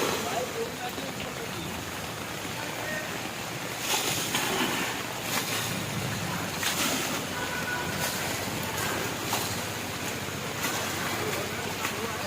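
Rainwater flooding into shops in Ambaji during the first rain, a steady wash of rushing water and rain with gusty noise bursts, voices faintly mixed in the background.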